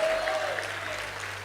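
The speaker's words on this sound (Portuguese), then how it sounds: "e você assenta aplaudindo bem forte o nome de Jesus" A church congregation claps for the name of Jesus in a short stretch of crowd applause, fairly soft and diffuse with a low hum underneath.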